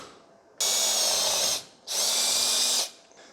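A drill bores through a metal piece for a DIY plasma cutting table in two loud bursts of about a second each, with a brief pause between and a short faint whir after.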